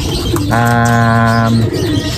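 A single drawn-out coo from a racing pigeon, a steady harmonic hum lasting about a second, heard close and clear over faint background noise.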